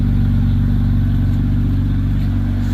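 A BMW 328i with its muffler cut off runs with a loud, steady, deep exhaust drone and a rough pulsing low rumble, close up and continuous, with no talk.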